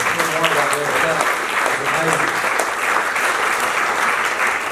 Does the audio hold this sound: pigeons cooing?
no